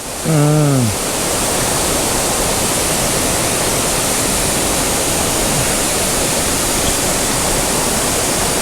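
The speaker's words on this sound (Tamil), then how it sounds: "ஒண்டர்ஃபுல் வாட்டர் ஃபால்ஸ், செம்மையாக இருக்குது" The Odugathur waterfall rushes in a constant, loud, broadband roar close by, with a brief tonal chirp near the start before the steady water noise fills the rest.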